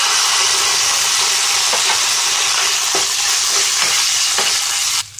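Ginger garlic paste frying in a pan with onions and curry leaves, giving a loud continuous sizzle with a few soft stirring scrapes.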